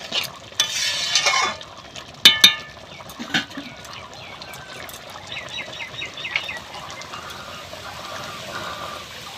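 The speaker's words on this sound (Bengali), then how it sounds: "এবার আমি তরকারিটা ঢেলে নেব।" Egg and matar dal curry is scraped and poured from a pan, with wet sloshing and metallic scraping in short bursts, then quieter stirring and faint sizzling.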